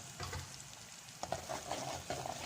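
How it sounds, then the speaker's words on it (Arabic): Garlic and ground ginger fry with spices in a pan, making a quiet sizzle with occasional scraping stirs that grow louder partway through, without voices. "بعد ما حطينا البهارات نحط الثوم مع الزنجبيل، الثوم مع الزنجبيل المطحون"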